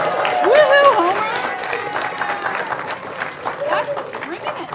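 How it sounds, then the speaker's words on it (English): An audience at a climate action planning event applauds and cheers, a dense patter of clapping mixed with whoops and a loud voice over it. "Let's give Aaron a round of applause."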